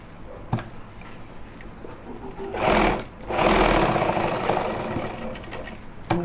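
A sewing machine stitches a pocket onto a pajama, its needle running in a steady, close mechanical whir that swells into louder, faster bursts midway.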